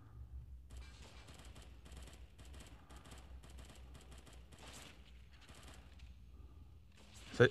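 Shotgun fire in the mobile shooter Unkilled during a multiplayer match, with a string of fairly faint, rapid bursts over a low rumble and a sharp louder hit at the very end.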